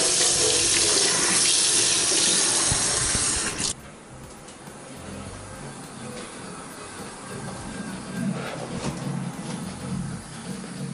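Water runs from a tap to fill small water balloons, a strong steady hiss that cuts abruptly to a softer, lower flow after a few seconds and continues alone.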